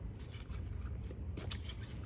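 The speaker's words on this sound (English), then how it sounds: "Now we're going to be shuffling this deck" A deck of cards is shuffled: two quick riffling bursts of papery flutter and snapping, close and fairly loud, with no talking.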